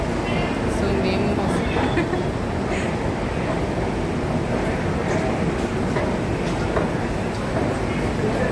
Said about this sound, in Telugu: ట్రైన్ ప్లాట్ఫామ్ 1లోకి వచ్చిందండి